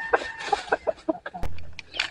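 A Frizzle Cochin rooster on a homestead gives a short series of clucks and a few sharp calls, close and fairly loud, with a brief thump partway through.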